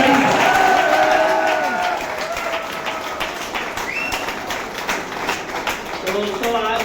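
An audience claps at a school motivational session, a dense burst of hands that is loudest at first and then thins to scattered claps, with voices rising over it near the start and end.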